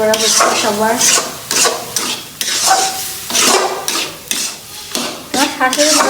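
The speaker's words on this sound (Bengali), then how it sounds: "এখন হচ্ছে পেয়ারা মাখানো হচ্ছে" Guava is mixed with kasundi mustard sauce in a bowl, producing close, rhythmic wet squelching and scraping strokes repeated in quick bursts.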